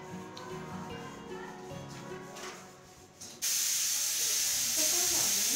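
Loud, steady high-pitched hissing whistle of a pressure cooker bursts in suddenly after a few seconds of quieter background noise, continuing strongly to the end.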